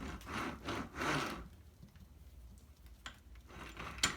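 Metallic rubbing and scraping as a planetary gearset is spun and eased down into a 6L80 automatic transmission, ending in a couple of small clicks and a sharp clunk as it seats.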